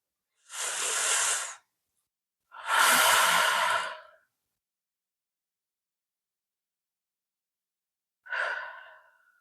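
Deep, slow breaths during a yoga stretch: two long, loud exhales in quick succession, a pause of silence, then a shorter, fainter breath near the end, close and with no talk.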